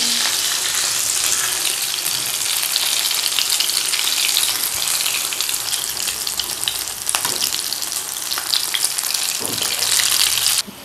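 Food frying in hot oil in a small kadhai, a loud, dense, steady crackling hiss that runs unbroken, with a few faint knocks before it cuts off at the end.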